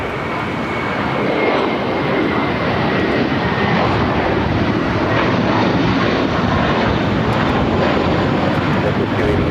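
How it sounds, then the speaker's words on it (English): A Boeing 777 cargo freighter jet takes off on runway 25 right at Los Angeles International Airport, its steady, loud engine roar filling the air with broadband rumble and wind buffeting, sustained and unbroken throughout. "777 freighter, going to be taking off next"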